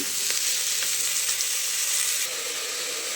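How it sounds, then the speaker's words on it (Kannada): Onion and mushroom fry in a pan for a mushroom biryani, a steady close sizzle without speech. "ಈರುಳ್ಳಿ ಮತ್ತು ಮಶ್ರೂಮು ಚೆನ್ನಾಗಿ ಬೇಯಿಸ್ಕೋಬೇಕು."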